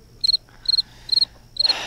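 A cricket sound effect chirps in four evenly spaced bursts, each a quick rapid trill, clear and close over a quiet background.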